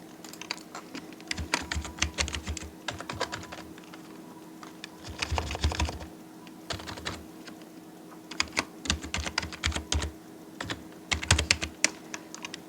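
Fast typing on a computer keyboard while entering business card text in a graphic design program: dense bursts of clicky keystrokes with short pauses between runs, close and steady, with no talking.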